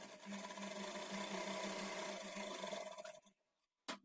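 A sewing machine runs steadily while stitching the edge of a lined blouse, a continuous close whirring hum that stops near the end, followed by a brief click.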